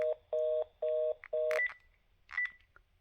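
Telephone keypad DTMF tones, four loud steady dual-tone beeps in a quick regular sequence, followed by a few fainter clicks and short higher beeps on the line.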